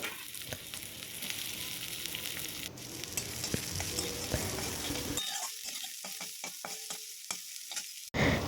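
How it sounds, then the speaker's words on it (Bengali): Steady hiss and crackle of onions frying in hot oil, close by, with stirring scrapes; the sizzle drops away partway, leaving occasional clicks. "তারপরে তেল দিয়ে পেঁয়াজটাকেও ভেজে নেব"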